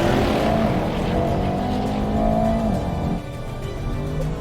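A 2021 Audi RS6 Avant accelerates hard, its engine roaring continuously with pitch climbing through the revs and a shift near the end, loud and close with no talking.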